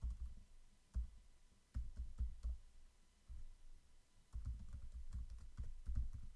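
Computer keyboard keys tapped in irregular bursts while an email address is entered, close and fairly quiet, with short pauses between runs of clicks and no talking.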